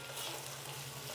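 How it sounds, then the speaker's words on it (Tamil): Tomatoes, potatoes, beans, carrots and onions sauté in a pan for paneer biryani, giving a close, continuous sizzling hiss with no talking. "ஃபுல்லாக வதங்கட்டும்."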